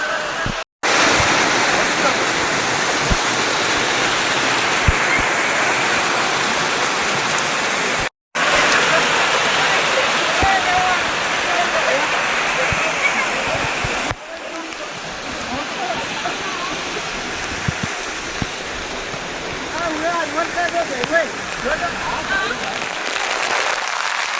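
Heavy monsoon rainwater rushes steadily at Girnar, Junagadh, like a downpour draining off, loud and continuous, with brief gaps and a person talking faintly at times.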